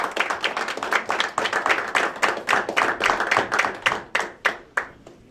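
An audience gives a final round of applause for award recipients at a high school student-of-the-month ceremony, with steady, moderately close clapping of many hands that thins out toward the end, with no talking over it.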